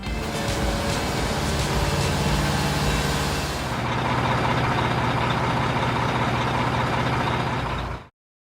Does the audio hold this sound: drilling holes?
no